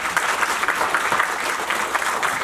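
Audience at an Afrikaans music talk event applauds At Botha, a steady, moderately loud burst of clapping from a crowd with no voices on top.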